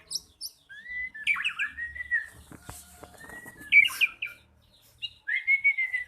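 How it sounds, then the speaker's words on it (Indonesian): A white-rumped shama, a murai batu, gives a series of bright whistled chirps and short warbling phrases, fairly close and clear against a quiet background, with pauses between bursts. "Tuh burungnya tuh."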